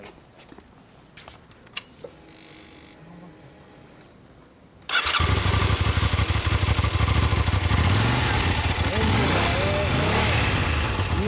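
A motorcycle with a Yoshimura aftermarket muffler starts after a few seconds of quiet handling noises, then settles into a loud, throaty idle with blips of the throttle, close by.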